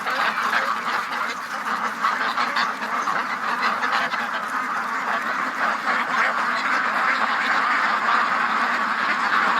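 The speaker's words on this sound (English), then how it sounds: "Come on out, ducks." Ducks quack continuously outdoors after a storm, a dense, overlapping chorus of loud nasal calls close by, with no talking over them.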